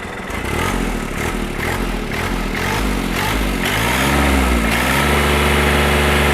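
A backhoe tractor's engine runs steadily nearby, then revs up in a climbing, wavering drone before settling again, loud and continuous with no talk.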